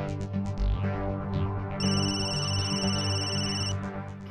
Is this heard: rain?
no